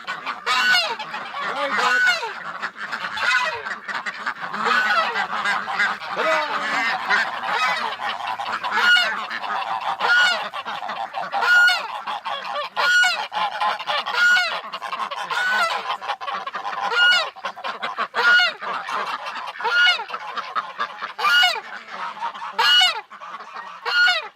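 Domestic ducks honking and quacking loudly and continuously nearby, a dense overlapping flock chorus with repeated sharp calls and no talking.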